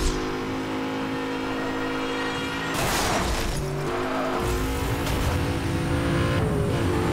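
A car in Need for Speed Hot Pursuit Remastered revs hard and accelerates, engine tone climbing through gear changes with a loud whoosh and tire noise midway, sustained and close.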